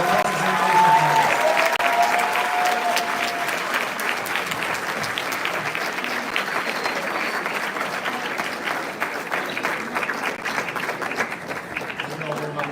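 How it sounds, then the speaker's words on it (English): An audience applauds after the finals of a Texas debate competition, sustained clapping that fills the room and slowly thins out, with a voice speaking over it at the start. "Round of applause for our representation."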